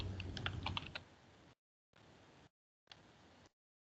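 Keys clattering on a computer keyboard while a username and password are entered, a quick run of close, crisp taps followed by two shorter bursts of soft typing separated by silence.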